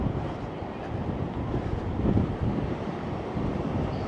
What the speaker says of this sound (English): The wind is relentless walking in this direction.